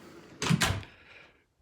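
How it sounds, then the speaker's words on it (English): A front door at a house fitted with an August smart lock swings shut with a fairly loud thump and brief latch clatter, followed by a faint fading rattle. "And you go ahead and close the door"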